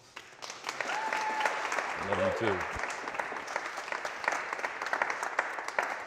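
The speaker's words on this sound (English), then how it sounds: "Big round of applause for my bride." A conference audience applauds the speaker's bride, sustained clapping of moderate loudness throughout, with a short spoken reply cutting in near the start.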